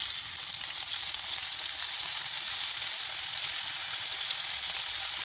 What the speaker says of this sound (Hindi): हमें इसे शैलो फ्राई करना है, डीप फ्राई नहीं करना है।